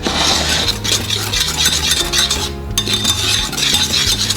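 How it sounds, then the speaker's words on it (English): A spoon stirs a cornstarch mixture in a pot for old-fashioned hot fudge sauce, giving steady scraping and metallic clinking, loud and close, with no talk. "It'll help that cornstarch mix together so we don't get clumps."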